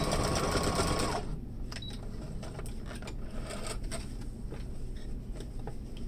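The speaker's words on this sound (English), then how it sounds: "I'm going to backstitch right here" A sewing machine backstitches on a fabric face mask, first as a loud, rapid, steady whirring hum, then quieter stitching with a lighter rhythmic patter.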